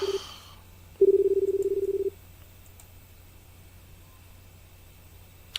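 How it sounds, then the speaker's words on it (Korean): A payphone being dialed in a video game: a short tone, then a rapid series of about a dozen evenly spaced keypad beeps lasting around a second, followed by quiet line hiss. "한번 더 전화 걸자"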